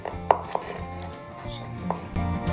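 A knife chops garlic on a board in a few distinct, sharp knocks spaced irregularly over a low background hum.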